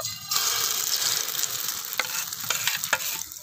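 Egg batter fries in white cooking oil with a constant loud, close sizzle, broken by a few sharp scraping stirs near the end.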